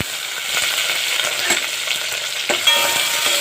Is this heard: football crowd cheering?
no